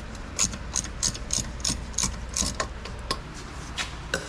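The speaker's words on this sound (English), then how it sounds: "I need the wrench." Ratchet wrench clicking while loosening exhaust bolts on a Mercedes CLS55, a steady run of crisp metallic ticks close by, repeated in quick bursts with brief pauses, no talking.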